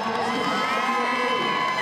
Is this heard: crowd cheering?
yes